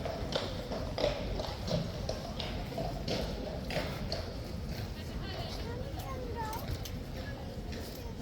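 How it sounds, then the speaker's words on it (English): Horses' hooves clip-clop steadily on hard ground at Horse Guards in London, moderately close beneath constant crowd chatter and outdoor background noise. "So watch those horses go in"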